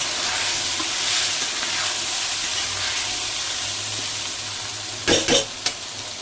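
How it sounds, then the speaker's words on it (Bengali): Ground spices and a blended spice paste fry in a pan for a tangra fish curry, with a constant crackling sizzle and a few quick clattering stirs near the end. "এবার এটাকে ভালো করে কষাবো, ঢাকা দিয়ে দিয়ে এটাকে কষাতে হবে"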